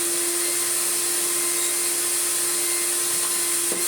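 A big Numatic twin-motor vacuum cleaner from Facebook Marketplace, still unrefurbished and fitted with a straight suction floor head, runs at a steady, loud, close whine and roar that holds unchanged throughout.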